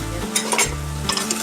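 Close, steady stirring and scraping in a pan over medium heat as a tomato sauce and dark soy sauce mixture sizzles, with a few louder metallic scrapes standing out.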